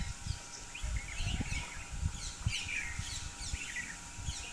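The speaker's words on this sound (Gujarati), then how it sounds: "સવારની અંદર પક્ષીઓનો અવાજ પણ તમે સાંભળી શકો છો ધ્યાનથી સાંભળજો" Faint, scattered bird chirps and tweets in the distance over a low outdoor background rumble.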